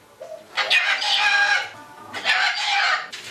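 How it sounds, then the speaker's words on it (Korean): A parrot kept as a stage performer by a magician, letting out two loud, harsh squawking calls in close succession, each lasting under a second, heard near and alone. "앵무새 한 마리가 있습니다."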